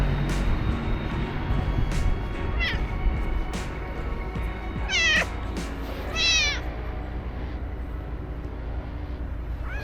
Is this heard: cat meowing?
yes